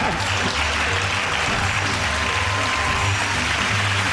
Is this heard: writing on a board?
no